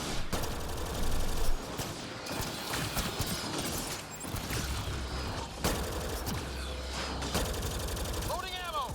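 Turret gunfire in the video game Mass Effect: Andromeda: steady rapid mechanical firing runs throughout, dense and loud, with a few sharper bursts and a rising whine near the end.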